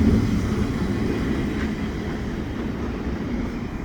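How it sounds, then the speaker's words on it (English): CPKC double stack freight train passing on a rainy day at Dorval, Montreal: a steady, loud rumbling roar of rolling cars with faint clatter and hiss, continuous throughout. "And that's the end of the train right there."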